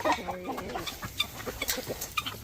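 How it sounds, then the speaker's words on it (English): Chickens cluck in a coop on a small homestead, ready to be let out to free range. The clucking is quick, overlapping and busy, fairly close, and there is no talking. "So we'll let all our chickens out to free range"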